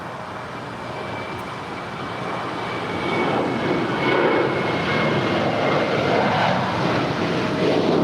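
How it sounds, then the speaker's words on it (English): A 12-year-old United Boeing 737-800 jet departing LAX for Las Vegas, its engine roar building from a distant rumble to a loud, broad, sustained thunder; a brief spoken word is heard early on. "was United 1727 departing to Las Vegas. It's a 12-year-old 737-800"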